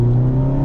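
Steady, loud engine drone from a Mazda ND Miata with a Roadster Sport Race exhaust under full throttle, a strong low hum held evenly through the brief moment.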